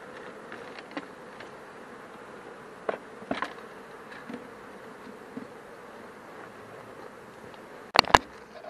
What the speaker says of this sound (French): les abeilles vont ainsi facilement voir battre le rappel sur la porte d'entrée de la ruche